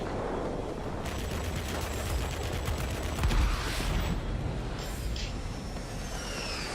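Aircraft cannons and machine guns fire in sustained bursts during a World of Warplanes dogfight involving a Tier IX German Messerschmitt Me P.1092 fighter, a steady rattling roar over engine drone with a louder surge midway.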